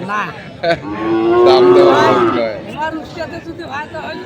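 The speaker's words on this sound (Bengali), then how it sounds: "চমৎকার দুটি বাছের গরু দেখলাম আমরা এখানে আরও বেশ কিছু গরু আছে" Sahiwal-breed cattle at the Ambari livestock haat give a loud, drawn-out moo close by, with crowd chatter and nearby voices mixing in before and after.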